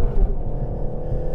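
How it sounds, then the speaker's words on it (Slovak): Renault Megane R.S. 280 TCe with EDC gearbox, its engine humming at a steady, moderately loud drone with a low rumble, briefly swelling near the start, no voices over it. "Ale ten motor sa mi nejak roztáča"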